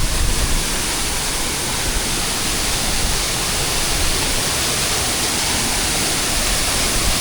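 At the bathing place beside Andawala falls, the waterfall pours out a loud, dense, unbroken roar that fills the whole stretch, close and steady with no talk over it.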